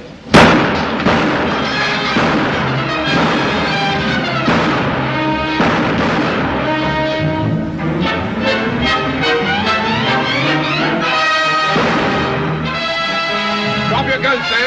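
Gunshots in a 1936 western film, a string of loud sharp bangs and pops fired in rapid bursts over a busy orchestral score and voices for most of the scene.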